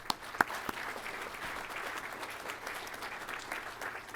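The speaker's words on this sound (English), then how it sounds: "So please, a round of applause for our support personnel." Graduation audience at an Air Force undergraduate pilot training ceremony applauds support personnel with even, sustained clapping, moderately distant and fairly quiet, with a couple of sharper claps near the start.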